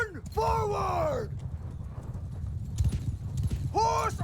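Cavalry horses charge in the Bannerlord game, hooves drumming in a steady clip-clop rhythm with loud neighs and whinnies at the start and again near the end, over a dense battlefield din.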